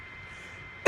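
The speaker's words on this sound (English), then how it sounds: "I got a little bit of a cough." A single short, sharp cough from a man bursts out at the very end after near-silence, close and loud.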